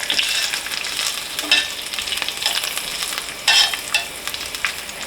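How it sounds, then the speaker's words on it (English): Steady, crackling sizzle of herbs frying in hot oil, with occasional louder pops and spatters throughout. "our oil has come up to temperature, and our herbs have steeped in that oil, and now they are frying"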